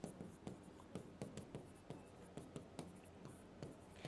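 A pen scratching out a math function on a board or paper, quiet rhythmic strokes and taps repeating steadily at close range with no talking.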